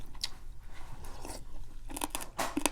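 Crunchy Thai pork crackling being eaten gives off close, crisp crunches and chewing. The bites come in irregular bursts, growing sharper and denser toward the end.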